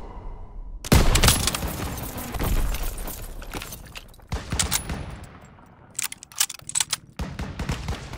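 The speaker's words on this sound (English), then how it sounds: "Fire on the MGs!" Machine gun fire and explosions in a Call of Duty WWII campaign battle, with loud bursts of automatic fire and impacts in irregular clusters that fade in and out between sharp volleys.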